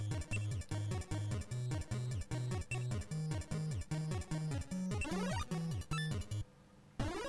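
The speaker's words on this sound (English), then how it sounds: "Here's the sound of the NES version." Chiptune music from the NES version of the puzzle game Alien Cat 2 plays in a bouncy, repeating bass pattern with bleepy effects, then cuts out briefly near the end.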